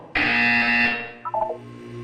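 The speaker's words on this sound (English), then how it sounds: "When you hear the buzzer, look down at the floor." Buzzer in the video game Portal 2: one loud harsh electronic buzz lasting most of a second, then a few short fading tones, with no speech.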